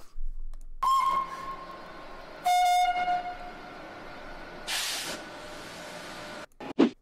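The Pacific 231 K8 steam locomotive, on display at a station platform, sounds several whistle blasts, a few distinct tones separated by pauses, with hissing bursts of steam and station noise between them.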